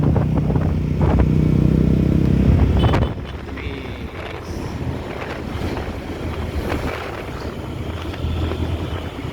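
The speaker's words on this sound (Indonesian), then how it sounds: "Dan ini cukup lumayan ramai kendaraan." Busy road traffic with cars and motorcycles passing close, a loud engine rush and wind buffeting at first, then a lower steady stream of vehicles and scattered horns, with faint voices.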